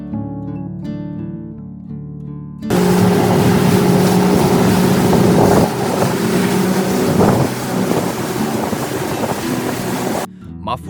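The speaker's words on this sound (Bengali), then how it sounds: "স্পিড বোর্ডের জন্য অপেক্ষা করতেছি।" A speedboat heading to Maafushi island in the Maldives roars at full throttle, its loud steady engine drone and rushing wind and water filling most of the ride, with a quieter idle before it starts and a sudden cut at the end.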